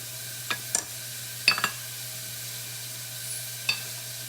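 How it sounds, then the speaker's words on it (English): Vegetables sizzle in a pan in a kitchen, a soft continuous frying hiss with a low hum beneath and a few sharp clicks of stirring utensils. "I will talk over the sizzling vegetables."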